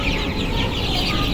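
Chickens on a poultry farm, a dense chorus of clucking from many birds close by, continuous and fairly loud throughout.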